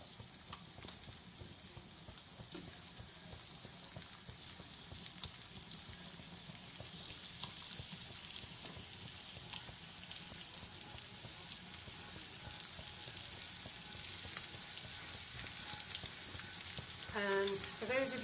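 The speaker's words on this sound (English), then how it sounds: "That's the sound you want, the sizzling sound of liver" Liver sizzles and spits in a hot frying pan, a quiet, continuous crackle with scattered pops and occasional scraping or stirring sounds near the end.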